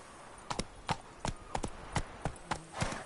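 In The Witcher 3, a horse's hooves clop in a quick galloping rhythm at moderate distance, fairly quiet against a soft game background.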